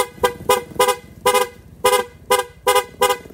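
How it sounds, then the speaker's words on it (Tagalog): A loud rapid horn on a Motorstar Easyride 150 FI motorcycle honks in rapid, evenly spaced short blasts, about eight beeps in quick succession. "ito yung rapid horn niya"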